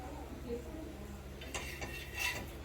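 Paneer butter masala gravy stirred in a pan, with a few soft scraping clinks of a spoon against metal toward the end, close and fairly quiet over a low kitchen hum.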